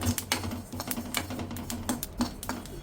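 Sesame seeds dry roasting in a pan for gunpowder spice mix pop and crackle in quick, irregular ticks, a close, busy patter of small sharp snaps.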